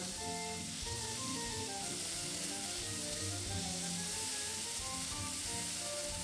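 Meat stir-frying in the Cooking Mama video game, a dense, continuous sizzle held at an even level, with a light tonal game melody running beneath it.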